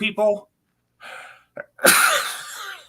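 A single sharp sneeze bursts out after some brief speech, loud and close, followed by a short trailing breath.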